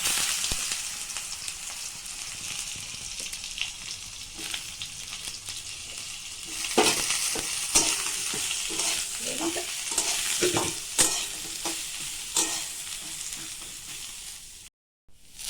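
Eggplant sizzles in hot oil in a pan with dried red chillies, stirred with a spatula that scrapes and clatters now and then, the frying hiss steady and close throughout.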